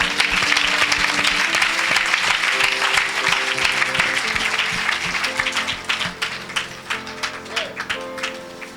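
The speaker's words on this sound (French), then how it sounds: "Quelqu'un acclame Jésus-Christ." A congregation at a Lille revival meeting claps and cheers densely, then the applause thins into scattered individual claps with a voice or two over it.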